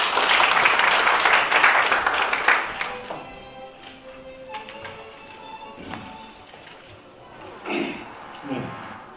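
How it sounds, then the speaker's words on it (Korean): Audience applause welcoming the chairman of a disaster relief association to the podium at a policy forum held in the National Assembly, Yeouido, loud at first and then thinning into scattered claps and thumps. "큰 박수로 맞아주시기 바랍니다"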